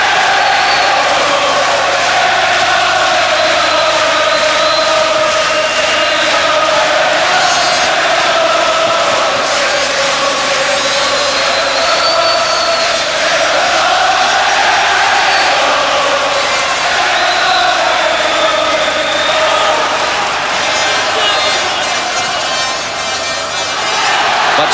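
A boxing arena crowd roars continuously through a professional bout, a dense sustained wall of cheering and shouting that swells and dips in waves without a break.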